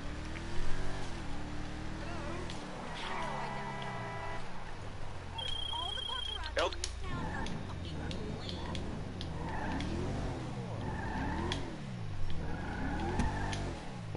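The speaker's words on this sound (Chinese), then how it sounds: "我还蛮喜欢它加速的声音啊" A Declasse Mamba classic sports car in GTA 5 revs and accelerates, its engine note rising through gear changes with brief tire slips, loud and close, under steady game music and occasional talk.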